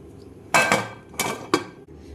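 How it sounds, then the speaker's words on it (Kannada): A pressure cooker lid goes on with a few sharp metallic clanks and rattles close by, in quick irregular bursts with no speech. "ಈಗ ಕುಕ್ಕರ್ ಲಿಡ್ ಹಾಕೋನು."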